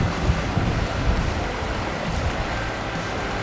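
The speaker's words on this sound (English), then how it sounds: "Beautiful little waterfall." Steady rushing water of a small waterfall in Yorkshire fills the whole clip, a broad continuous splash and roar close by, with some wind buffeting the microphone.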